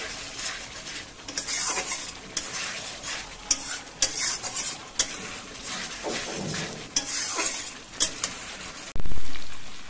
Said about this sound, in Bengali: এবার এটাকে ভালো করে কষাচ্ছি।